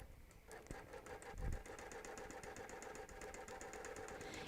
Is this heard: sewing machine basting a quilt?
yes